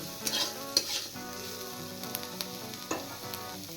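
Chopped onions with green chillies fry and sizzle in a pan, a soft, steady crackle broken by sharp scraping stirs, with no talk.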